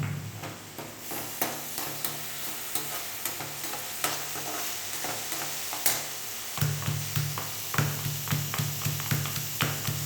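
Crushed ginger fries in a pan for wheat rava kichadi, with steady close sizzling and repeated clinks and scrapes of a spoon stirring throughout.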